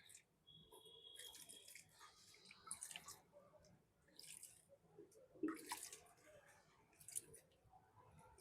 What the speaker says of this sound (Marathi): मी बकेट खूप फुल भरली आहे तर थोडं हातानेच टाकतोय.